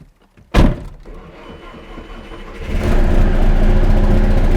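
A 1.9 TDI 8V PD diesel engine cranks with a sharp burst, then catches and settles into a loud, rough, clattering run that grows fuller over a few seconds, with no voices.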